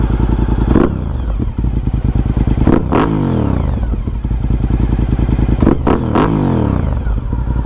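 Honda RC51 V-twin sport bike with an aftermarket exhaust, revved hard several times while stationary: loud, close throttle blips rising and falling over a lumpy, pulsing idle, with crackles between revs.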